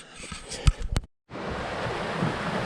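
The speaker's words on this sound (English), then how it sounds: "Crossing over the other little creek waterfall" Water from a small creek waterfall rushes steadily after a cut in the sound, following a few knocks and thumps at the start.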